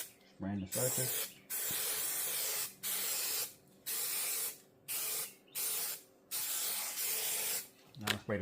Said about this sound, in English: Spraying the surface.